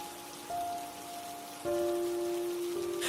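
Light rain patters in a constant soft hiss, while faint steady tones hum underneath and shift in pitch partway through.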